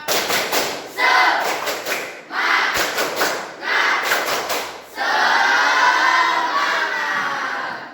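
A group of people performs the tepuk semangat spirit clap in a classroom, with bursts of rhythmic clapping and short shouted chants in quick sets. The last few seconds end in a sustained burst of loud, dense applause.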